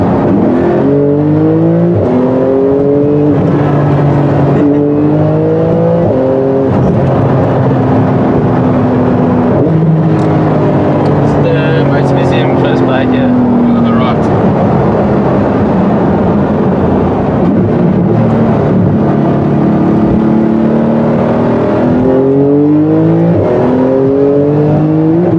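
A Porsche 911 991 GT2 RS supercar on the road near Franschhoek in the Western Cape, its engine loud and close, revving up through repeated gear changes with rising and falling pitch over steady road roar.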